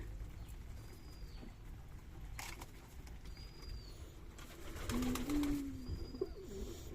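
Pigeons bathing outdoors in the rain at a loft near Sona Masjid, Chapai Nawabganj, give a low, drawn-out coo amid steady background hiss and scattered light patter and chirps.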